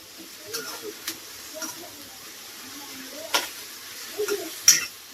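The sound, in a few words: stirring and sautéing sukka chicken in pan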